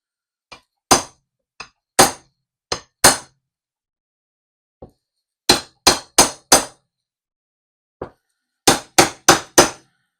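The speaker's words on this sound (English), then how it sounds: "Then I'm going to tap the back of the blade." Sharp metallic taps of a knife blade's back striking a coconut shell, in clusters of two to four quick hits separated by pauses, close and crisp with silence between.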